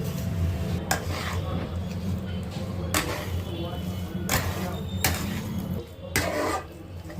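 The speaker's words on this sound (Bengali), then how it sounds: "ভালো করে নাড়িয়ে নিতে হবে, ভালো করে শুকনো করে নিতে হবে।" Coconut and jaggery mixture being stirred in a pan, with repeated sharp scrapes and clinks of the utensil against metal at irregular intervals over a low background hum, close up; a voice talks quietly at times.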